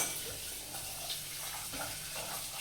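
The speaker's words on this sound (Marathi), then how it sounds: "आता हे चांगलं उकळी येऊ देऊया." Chole curry thinned with leftover pressure-cooker water simmers toward a boil in a home kitchen, giving a soft, close bubbling and faint sizzle that stays quiet and steady.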